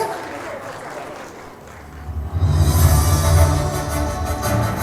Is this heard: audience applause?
yes